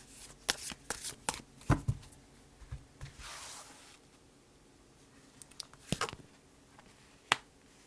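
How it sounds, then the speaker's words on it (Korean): Tarot cards are shuffled and drawn in a quiet room, with soft riffling, flicks and snapping slaps arriving in uneven bursts and a few sharp card snaps near the end, close and fairly faint. "우선 상대방의 속마음에 대한 카드 먼저 뽑아보도록 할게."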